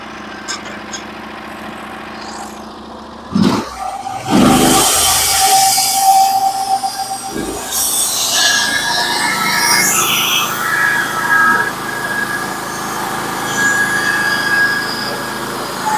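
Sawmill cutting a 10/4 spruce log into boards 1.5 inches thick, a loud engine roar that rises sharply as the blade bites into the wood and holds as a steady, close grinding whine.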